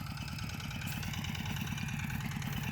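Walk-behind tractor engine running in a watermelon field, a steady loud chugging idle with rapid even pulses throughout, close by and alone.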